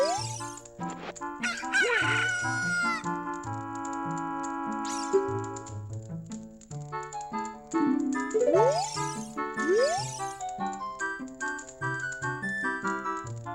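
Cuckoo chickens in the video game The Legend of Zelda: Ocarina of Time cluck and crow in short bursts. The calls sit over busy, continuous game music, with loud rising squawks near the start and again partway through.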